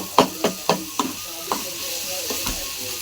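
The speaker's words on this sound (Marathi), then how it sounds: "चांगले परतून घ्यायचे मसाले." Spices and onion sautéing in a pan, with sizzling under a series of sharp stirring scrapes and clinks in a steady rhythm, close and fairly loud, with no talking.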